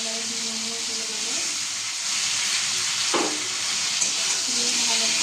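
Eggs and fried potatoes cook in a pan with a steady, loud hissing sizzle, broken by a brief clatter of stirring, while a person speaks faintly underneath.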